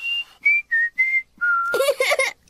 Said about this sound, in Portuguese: isso está parecendo um assobio